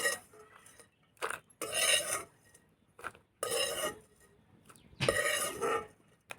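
Dried prawns are lightly roasted in a pan and stirred with a metal spoon, giving bursts of scraping and clinking in short, irregular strokes with quiet gaps between them, close and clear.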